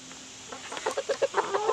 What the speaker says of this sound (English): Hey, come here, chicken.